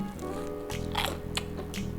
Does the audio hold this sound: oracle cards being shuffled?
no